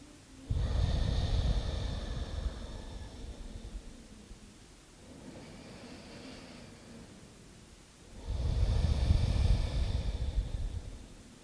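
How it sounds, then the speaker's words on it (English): Slow, deep breathing during a relaxation exercise, with a long audible inhale, a softer exhale, then another deep breath, close and breathy with no talking. "And breathe."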